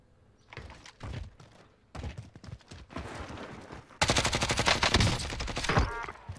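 Call of Duty gunfire including sniper rifle shots, scattered sharp reports over the first seconds, then a loud sustained rattling burst from about four seconds on, close and dominant with no speech.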